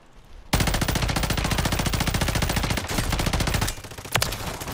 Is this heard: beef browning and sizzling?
no